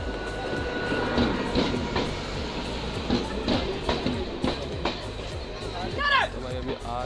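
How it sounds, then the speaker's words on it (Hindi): On a local train route from Una, Himachal, to Chandigarh, a train pulls into a station platform with rumbling, rhythmic wheel clatter and a high wheel squeal near the end, while people talk on the platform. "अभी अपनी ट्रेन का अराइवल होने वाला है, तो अभी आपको अराइवल दिखाते हैं, वो आ रही है, उधर से आएगी हमारी ट्रेन"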